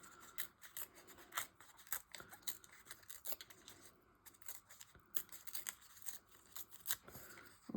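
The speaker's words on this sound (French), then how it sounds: "je vais venir déchirer un petit peu ça" Soft, close ripping and rustling of paper being torn by hand for a vintage collage, in irregular short bursts with brief pauses, faint and intimate.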